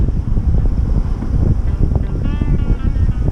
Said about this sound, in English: I got a bit of wind, bit of waves, bit of traffic.